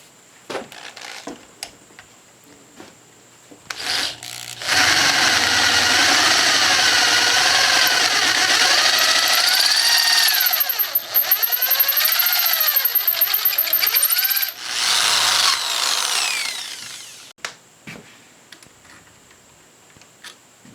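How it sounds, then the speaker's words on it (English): A power drill whines loudly into the metal control plate of a Telecaster-style electric guitar for about twelve seconds, its pitch wavering under load, with clicks and handling noises before and after. "So I'm going to have to drill these out."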